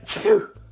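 A single sharp human sneeze, close and loud, with a bright burst followed by a short voiced tail, then a brief murmur of speech.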